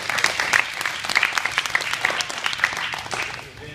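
Audience applauding for BJJ purple belts at an Arlington, Texas academy: a short burst of dense hand-clapping from a small crowd, steady for a few seconds and then fading out.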